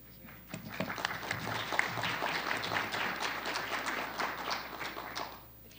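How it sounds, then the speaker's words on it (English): A roomful of people at a faculty panel forum applauds, a dense, even rattle of many hands that rises quickly, holds steadily and then tapers off toward the end. "Please give a hand of applause."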